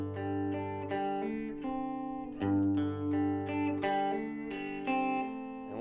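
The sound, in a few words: guitar hammer-on from open G root to second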